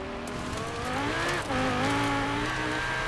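A Lamborghini in Forza Horizon 4 drives across gravel, its engine note rising and sweeping in pitch as it accelerates, with a brief dip before revving up again, loud and steady throughout with no talk.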